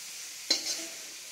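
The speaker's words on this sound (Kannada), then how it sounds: "ನೂಡಲ್ಸನ್ನು ಈ ರೀತಿಯಾಗಿ ಫ್ರೈ ಮಾಡ್ಕೊಬೇಕು" Homemade noodles are tossed and stir-fried in a pan, one quick scrape of the utensil followed by a brief soft sizzle, then a quieter steady hiss.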